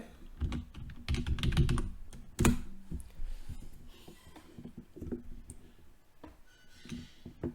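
Computer keyboard keys tapped in quick clusters during an Excel and PowerPoint copy-paste, close and fairly loud, with a heavy burst near the start and a sharp key press midway, then lighter scattered clicks.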